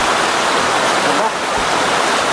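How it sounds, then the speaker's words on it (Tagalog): A waterfall on a farm lot in Majayjay, Laguna rushes in a loud, continuous broadband roar that fills the whole moment, steady and close. "Ganda, may falls."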